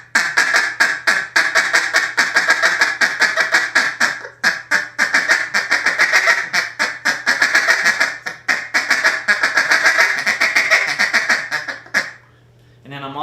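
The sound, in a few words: duck call imitating mallard ducks quacking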